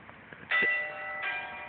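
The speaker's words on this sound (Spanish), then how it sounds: "Mira, loco, y suena la campana." A church bell rings near a small outdoor bonfire, two bright metallic strikes half a second apart that linger and ring out faintly over a quiet background.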